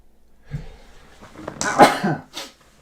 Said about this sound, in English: That's my first sneeze on camera.